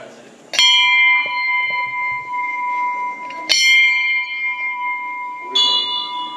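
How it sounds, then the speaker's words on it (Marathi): A temple bell hung overhead in an old Pandava-era Shiva temple rings three times, each bright metallic strike sustaining and overlapping, close and loud inside the cool stone interior. "वरती घंटा अडकवली"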